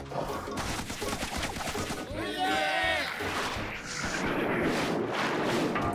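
A cartoon cannon fires with booming bursts and a swooping whistle, surrounded by busy noisy clatter.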